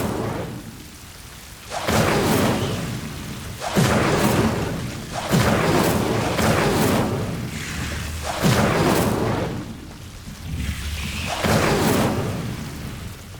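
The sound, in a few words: Incendio fire spell cast, video game Hogwarts Legacy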